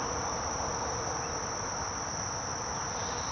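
Honey bees crowd a hive frame during a summer mite check, making a dense, steady buzzing drone with a thin high whine on top. The drone is close and unbroken throughout, with no voices.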